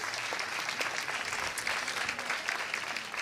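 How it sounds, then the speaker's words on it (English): An audience at an outdoor festival event claps in a dense, steady wash of applause, moderately distant and uniform for a few seconds. "yes, you can applaud him"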